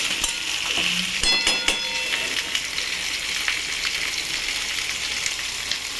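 Potatoes with garlic sauté in a pan, giving a close, steady sizzle with scattered clatters of stirring, without any talk over it.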